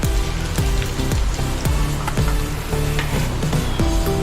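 Home-made garam masala sizzles while being sautéed in a pan for prawn biryani, a steady close frying crackle with repeated scraping stirs at a regular rhythm and no talk.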